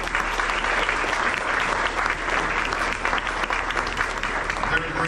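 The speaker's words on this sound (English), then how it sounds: "let's give your counselors all a hand clap" An audience applauds school counselors at a college scholarship event, with steady, dense clapping from a large crowd running throughout, loud and close.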